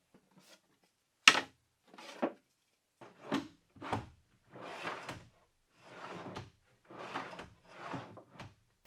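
A cabinet drawer raised on plywood runners slides open and shut repeatedly, giving a series of soft wooden scrapes and rubbing strokes, one sharper knock near the start, with short quiet gaps between them.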